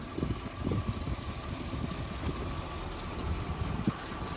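A rebuilt 318 V8 engine in a 1957 Plymouth Fury idles steadily with a low, even rumble and a faint whine, no voices, continuing throughout.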